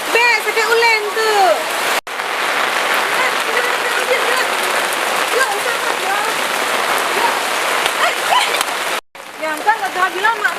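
Rain falls in a dense, steady hiss on surfaces in Aceh, loud and continuous with brief cuts, while people talk over it in several places.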